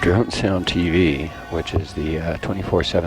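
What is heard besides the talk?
None of the usual background noises is heard.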